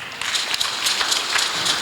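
A church congregation bursts into sustained applause, dense rapid clapping filling the room evenly from start to finish with no pauses or talk.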